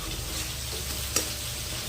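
Tomato chutney with tomatoes and lemon being stirred in a pan, a soft continuous sizzle with faint scraping and one brief sharp clink of the utensil near the end.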